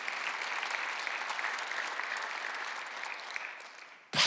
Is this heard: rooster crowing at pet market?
no